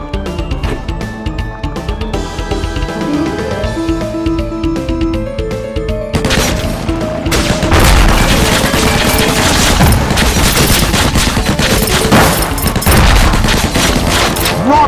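Heavy machine gun fire in the Undead Squad video game: a dense, loud, continuous barrage of rapid shots and booms. It starts under a tonal music-like backdrop, then swells into a thicker wall of gunfire for the remainder.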